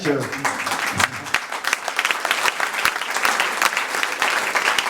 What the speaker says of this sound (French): Je vais l'applaudir effectivement